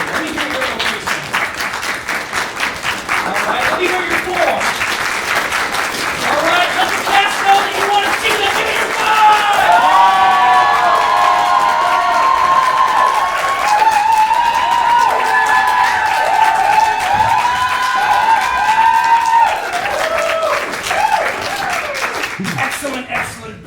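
A live improv comedy audience applauding and cheering loudly and continuously, with whoops and shouted voices swelling in the middle and sustained clapping throughout.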